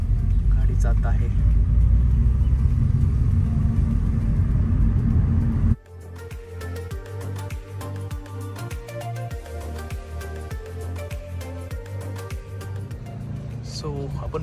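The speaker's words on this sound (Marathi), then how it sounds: "गाडी जात आहे." A car drives through a giant sequoia forest, a loud, steady low rumble from inside the vehicle for about six seconds, then cut off and replaced by a rhythmic, tonal, music-like pattern.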